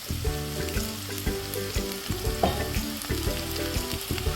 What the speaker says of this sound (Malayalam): അതിലേക്ക് വേപ്പില ഇട്ട് കൊടുക്കാം